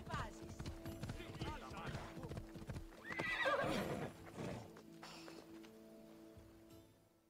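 In Assassin's Creed Odyssey, a horse's hooves clop along and it gives a whinny midway, with people talking over and around the sounds before everything fades out.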